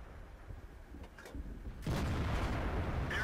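A tank gun in World of Tanks fires a single loud, close blast that cuts in sharply and then rumbles on, preceded by quieter mechanical clanks and engine noise.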